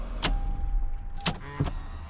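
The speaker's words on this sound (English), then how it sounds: "the steering wheel will put itself back so you can enter and exit the car easily" Electric steering wheel of a 1998 Toyota Aristo V300 with a 2JZ-GTE engine, motoring back into position inside the car: short whirring motor bursts separated by pauses, close and fairly quiet over a low cabin hum.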